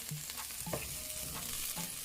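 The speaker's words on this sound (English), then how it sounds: "I have some asparagus and I'm just gonna saute them a little bit." Asparagus sautéing in olive oil in a pan, a steady soft sizzle broken by brief stirring scrapes and clicks, close and continuous with no voices.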